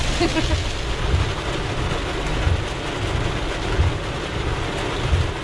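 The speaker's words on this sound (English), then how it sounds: "And it's storming outside, and not just a little bit, but I mean a lot." Heavy rain pounds steadily on a car driving through a storm, a dense continuous wash over a low engine rumble, with no distinct thunder.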